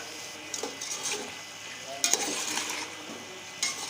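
Spiced chicken for biryani fries and sizzles in a pan while a utensil stirs it, giving a steady moderate hiss with scraping strokes and a few clinks, heard close and alone.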